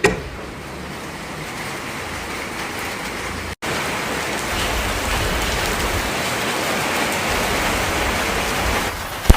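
Steady rain falls in a dense, even hiss that lasts the whole stretch. There is a short break partway through, and no voices.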